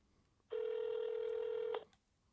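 A long, steady touch-tone note from a telephone keypad holds alone for over a second, fairly quiet and clear against a near-silent background.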